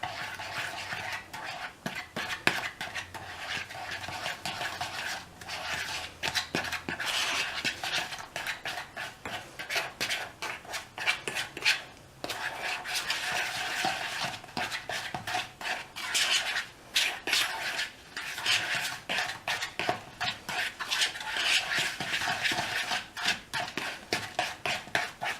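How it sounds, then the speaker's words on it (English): Graham crackers being stirred into melted butter with a fork in a bowl, a steady run of close scraping and clinking strokes that continues throughout with no talking. "Just gonna add my graham crackers in. Mix it up with a fork."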